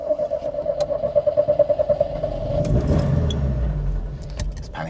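An Alfa Romeo Alfasud Sprint Veloce starts up: a rapid pulsing starter crank, then the engine catches and settles into a rough, raspy idle, close and fairly loud.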